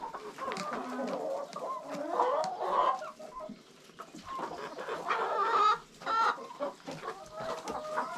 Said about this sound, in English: So we ended up with these 3 white roosters, and then that rooster that's injured over there.